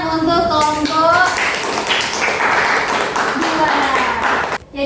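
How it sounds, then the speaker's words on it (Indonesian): Students in a madrasah religious-education class clap for a presenting group, a steady patter of hands running under a speaking voice across the whole clip before cutting off abruptly at the end. "Tepuk tangan untuk kelompok"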